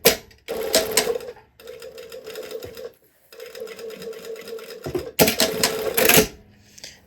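A sewing machine stitches in several bursts, basting a seam at a quarter inch on a garment, with rapid whirring runs of varying speed separated by short pauses.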